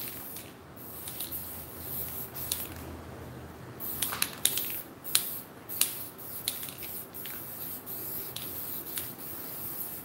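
An aerosol spray can coating an alcohol ink and resin tray with glass, repeated short hissing bursts of varying length, close and fairly quiet, with no talk.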